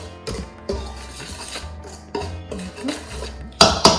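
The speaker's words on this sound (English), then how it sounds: "I'm gonna whisk that, give that a good little whisk together" Salt and cinnamon being whisked together in a bowl while making gluten-free walnut zucchini muffins, heard as irregular metallic clinks and scrapes of the whisk against the bowl, close and fairly loud, with short bursts and pauses.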